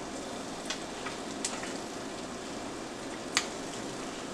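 Eggs frying in salted butter in a pan give off a steady, even sizzle with faint crackles and a few sharp pops near the start and end, close by and on their own.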